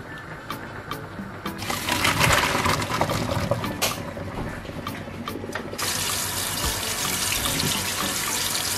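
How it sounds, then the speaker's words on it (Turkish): Tap water runs steadily into a pan of thickened pasta sauce in a kitchen, a close hissing, splashing stream that swells and shifts in tone as the flow changes, with no talking. "o yüzden su ekliyorum"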